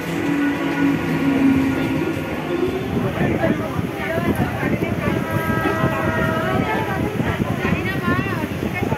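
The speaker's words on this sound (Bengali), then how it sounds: "আমার ট্রেন মোটামুটি ঢুকে গেল শান্তিপুর লোকাল" A Shantipur Local suburban train in West Bengal rumbles steadily along the tracks with a continuous low roar and rattling, while people talk faintly over the noise inside the carriage.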